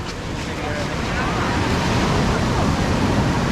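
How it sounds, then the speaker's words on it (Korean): Strong ocean waves surge against the coast at Cinque Terre, a loud continuous wash of surf with wind buffeting the microphone throughout. "파도 세다잉"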